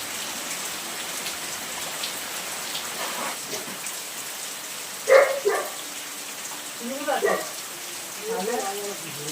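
Heavy rain falls steadily in the background as a soft, continuous wash of drops, while a nearby dog barks in a few short bursts and brief voices break in toward the end.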